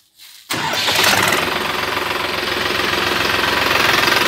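A 2019 New Holland 6510 4x4 tractor with a 65 HP engine cranks and fires up after a short silence, then settles into a loud, steady diesel idle with a rhythmic throb.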